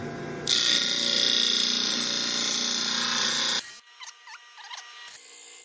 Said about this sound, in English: I'm on the disc sander, and all I'm going to do is just have it flat and take off a little bit at the end